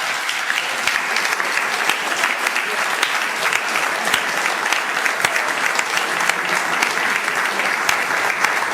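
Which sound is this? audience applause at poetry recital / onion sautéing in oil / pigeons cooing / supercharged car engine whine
audience applause at poetry recital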